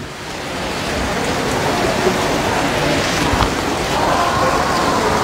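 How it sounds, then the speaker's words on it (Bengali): Steady rain falls outdoors near a market shop in Malaysia, a dense continuous hiss with a few faint low rumbles, heard on its own without talk. "এটার মধ্যে বৃষ্টিও ধরছে।"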